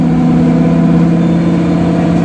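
Caterpillar D8 bulldozer with a powerful diesel engine running steadily close by, a loud continuous low rumble with a strong hum and no pauses.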